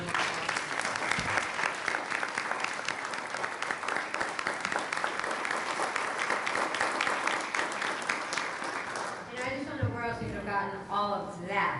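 Audience applause for panelists at an African American small business conference, loud sustained clapping from a crowd for about nine seconds before fading into voices.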